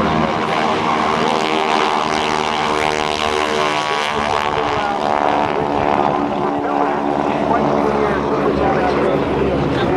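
Vintage SNJ propeller planes of the GEICO Skytypers fly in formation at the NAS Oceana airshow, a loud, continuous radial-engine drone that swells and shifts as they pass, with an announcer talking over it.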